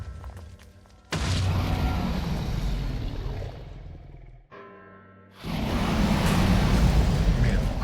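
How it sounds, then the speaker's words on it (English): Loud, dense rumbling blasts of video game explosions, a sustained roaring wall of sound that drops out briefly midway and then surges back even louder. "All the explosions."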